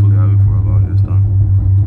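Stage 2 Audi S3 with a turbocharged four-cylinder cruising, its exhaust laying down a steady, loud low drone inside the cabin, with a faint murmur over it.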